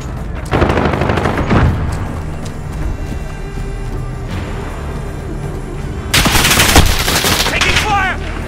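Gunfire in Call of Duty Modern Warfare rattles in bursts, with a heavy volley early on and another loud barrage toward the end. It is close and sharp over a steady game background, with voices faintly present.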